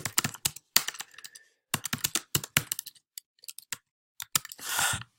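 Keys clatter on a computer keyboard in quick irregular bursts with short pauses between them, ending in a brief rushing noise.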